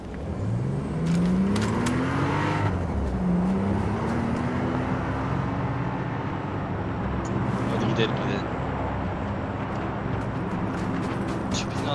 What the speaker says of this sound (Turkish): Araç geldi.